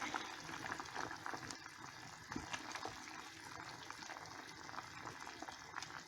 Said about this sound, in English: And continue simmering it until the liquid sort of like lowers down a bit.